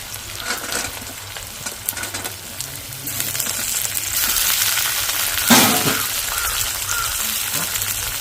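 Chopped carrot, green chili and tomato fry in a pan with a steady sizzle that swells after a few seconds, broken by stirring scrapes and a sharp clink midway.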